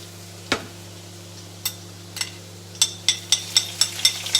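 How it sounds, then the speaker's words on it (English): Garlic and chili drop into a hot wok for Thai basil chicken, a sharp clatter followed by scattered ticks and quick crackling pops building in a regular pulse over a steady hum, close and fairly loud, without speech. "So you put your garlic in there very quickly."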